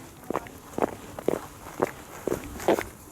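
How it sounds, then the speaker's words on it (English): Football cleats walking on stone tiles: six distinct clicky, scraping footsteps at a steady walking pace, close and moderately loud, with no talking over them. "Cleats on stone tiles."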